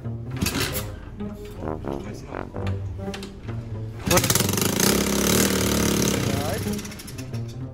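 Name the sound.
old motorcycle engine starting and running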